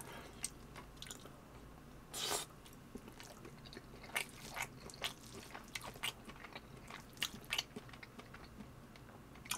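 Close-up chewing of tuna kimchi fried rice at a home meal, with soft crunchy bites and wet mastication sounds coming in irregular bursts, quiet and intimate with no talking.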